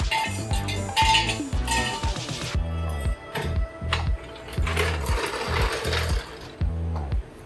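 Wheels are taken off an old van during brake repair work. A loud, close, rattling mechanical buzz runs in repeated short bursts, with metallic clanks between them.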